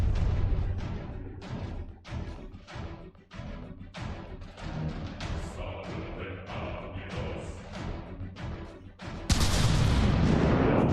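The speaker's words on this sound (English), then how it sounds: "More gunfire." Naval guns in the video game From the Depths fire in a rapid, uneven barrage of sharp booming shots over a rumbling backdrop, ending in a sudden loud roar of blast and debris.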